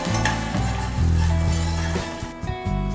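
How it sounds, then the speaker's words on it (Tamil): Chopped ginger, small shallots and a sprig of curry leaves sauté in a pan for banana stem soup, giving a steady close sizzle with repeated stirring scrapes and light metallic clinks, heard alone without talk. "நறுக்குன இஞ்சி சேர்த்துட்டு நல்லா வதக்கிக்கலாம்."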